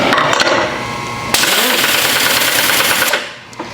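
A machine resurfacing the cylinder head of a GM 5.3 engine spins steadily up close, a dense whirring mechanical clatter that surges louder partway through and then winds down near the end.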